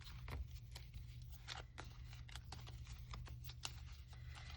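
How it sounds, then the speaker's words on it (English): A pile of prop paper bills is shuffled by hand, giving quiet, close papery flicks and taps in an irregular rhythm over a low steady background hum. "I'm going to give this pile of prop money a little bit of a shuffle."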